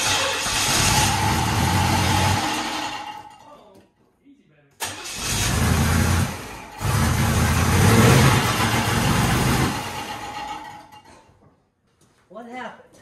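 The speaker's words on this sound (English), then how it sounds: "let's fire it up, see if I can let it run a little bit longer this time." A hot-rodded 350 Chevy V8 being fitted to a Monte Carlo cranks and fires, runs loud and rough, cuts out, then restarts and keeps running with revving, while people talk nearby.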